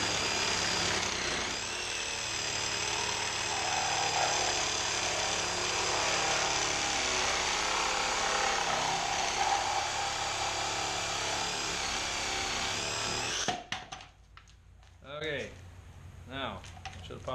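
PVC pipe is cut with a power tool in a steady, loud, whining drone lasting about thirteen seconds, then it stops and someone speaks briefly amid small handling noises.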